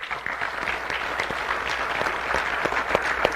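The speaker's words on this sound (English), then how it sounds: "so that we can give them a round of applause" Audience applause at a town hall meeting in Joseph City, Arizona: steady, moderately loud clapping from a crowd in a hall, with scattered sharper claps standing out, lasting a few seconds.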